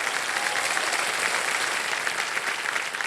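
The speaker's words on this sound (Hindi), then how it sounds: "गौरंग जी के लिए एक बार ताली बज जाए" A studio audience on a television quiz show applauds a contestant, a steady, uniform roar of many clapping hands that stays level throughout with no speech.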